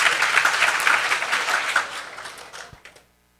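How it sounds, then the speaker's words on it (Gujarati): Audience applauding a Swami after a Holika Dahan religious talk, a dense burst of many hands clapping that thins out and fades to silence. "એ બદલ આપણે સ્વામીને એક વખત તાળીઓથી વધાવીએ"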